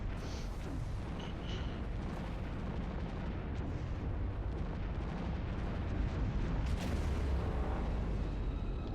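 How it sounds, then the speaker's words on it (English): A ship explosion in the space game X Rebirth comes as a dense, sustained roar of low booming rumble with scattered crackles and bursts, steady and loud throughout with no talk. "One explosion, and I think we get a follow-up."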